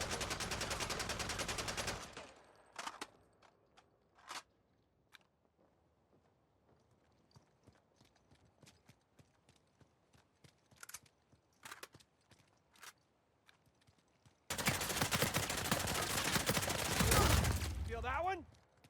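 P90 submachine gun fire in Uncharted 4 multiplayer, loud sustained automatic bursts at the start and end with scattered single shots and softer game sounds in between.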